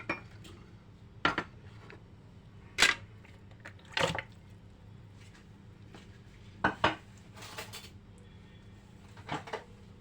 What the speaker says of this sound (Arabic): هبتدي ان انا اضيف عليها الاجنحه بتاعتي.